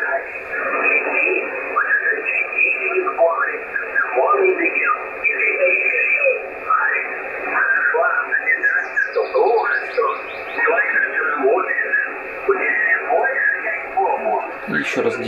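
Malahit DSP radio receiver with noise reduction switched on, tuned to a weak signal: a steady band-limited hiss with a faint, murky voice running continuously through it.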